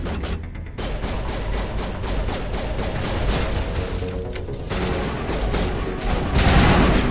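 In Mass Effect 1, heavy weapon fire from a rocket launcher produces a dense, continuous roar of blasts and rumbling booms that swell toward the end, with no talk.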